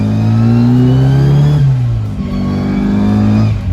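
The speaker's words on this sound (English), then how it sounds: "We're going to push forward and we'll go into third." Mini 1275 LS with a straight-cut gearbox accelerating hard in third gear: a loud, close, steady engine drone climbs in pitch, briefly dips, then pulls up again with continuous gear whine.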